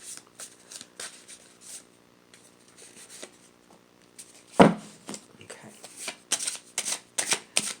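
Cards being shuffled in quick riffling bursts close to the microphone, with a voice briefly speaking in between.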